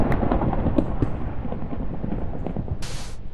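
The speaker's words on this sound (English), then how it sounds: "I just heard an explosion on the surface, so that would be lightning." A dull, rumbling boom of a lightning strike on a planet surface in a video game rolls through a steady low background roar, with a brief bright hiss near the end.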